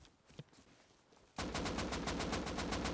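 Rapid automatic AK rifle fire in the survival game Rust, a fast even burst of loud close shots that starts suddenly after a quieter stretch with a few distant pops and keeps hammering steadily to the end.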